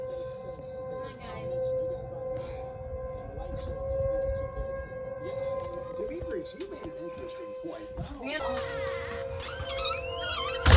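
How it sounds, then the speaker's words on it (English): Outdoor tornado warning sirens sound with a steady, sustained wail, joined near the end by sharper electronic alert tones, while people talk underneath. "We've got sirens going off."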